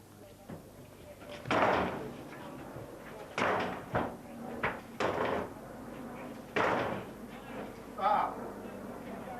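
Police bang on the door of a home during a welfare check, with several heavy, irregular thuds and knocks while people talk nearby.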